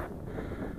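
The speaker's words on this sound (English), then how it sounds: "No, the wind's picked up, so that's in my favour." Wind gusting across an outdoor flying field where a foam Extra 300 model plane is being flown, a steady broadband rush buffeting the microphone throughout, with no voices.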